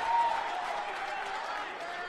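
A crowd at a grappling fight responds with scattered applause and a low murmur under a commentator's voice, steady and moderately distant.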